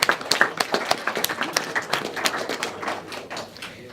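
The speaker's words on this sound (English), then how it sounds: "a round of applause for Laura." Wedding guests give a round of applause, a modest burst of individual claps that starts sharply and gradually thins out over a few seconds.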